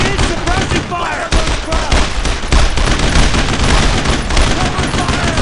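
Dense automatic and rifle fire rattles without a break during a World War II firefight in Brothers in Arms: Road to Hill 30, loud and close, with soldiers' voices shouting over the shooting.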